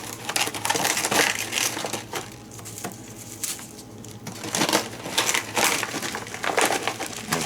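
Freeze-dried chicken and celery pasta squares drop into a pouch, making a series of crisp crunching, crinkling rustles in bursts, close up, with no talking.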